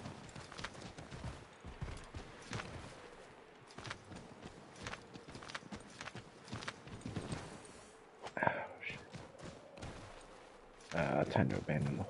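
Horse hooves clip-clop in the Assassin's Creed III video game, a quiet irregular patter of steps mixed with scattered in-game sounds and distant gunshot-like bursts, while people talk over it.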